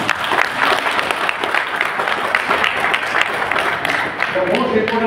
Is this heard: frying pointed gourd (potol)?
no